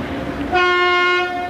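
A train horn sounds one long, loud, steady blast after a brief stretch of rumbling background, holding strong before starting to fade.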